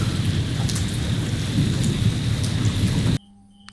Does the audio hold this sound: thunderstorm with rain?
yes